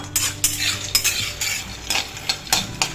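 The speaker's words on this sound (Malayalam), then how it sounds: "ചൂടായിട്ടുള്ള ഒരു ചീനച്ചട്ടിയിലേക്ക് ചേർത്ത് കൊടുക്കാം എന്നിട്ട് ഒന്ന് റോസ്റ്റ് ചെയ്തെടുക്കാം എണ്ണയൊന്നും ചേർക്കുന്നില്ല" Peanuts dry roasting in a hot kadai with no oil over high flame, stirred continuously, with a quick series of sharp scraping and rattling strokes repeating about every half second, close and fairly loud, with no voices.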